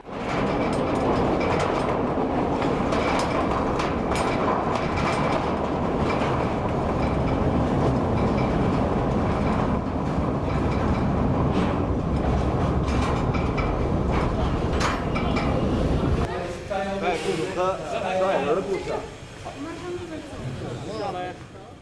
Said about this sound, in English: the workers' train heads back to Dongbolizan, this time chimney first